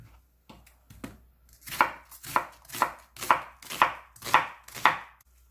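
Knife chopping half an onion on a cutting board for a braised flounder dish, with about nine crisp, evenly spaced chops that grow steady and loud, alone with no talking.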